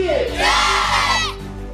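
A large crowd at a Shivaji Jayanti lecture event roars back a loud, sustained collective chant, voices swelling together for over a second before trailing off.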